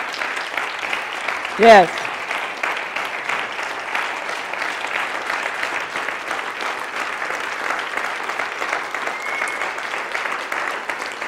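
Church congregation applauding at a Sunday service, sustained even clapping filling the whole stretch, with a brief spoken word from one person early on cutting over it.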